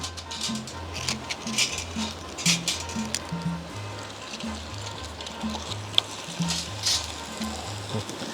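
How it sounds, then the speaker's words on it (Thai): A soft, continuous crackle and hiss of rice crackers frying in hot oil, with rhythmic low music playing underneath throughout. "เดี๋ยวผมก็จะเริ่มทอดข้าวตังก่อนเลยครับ"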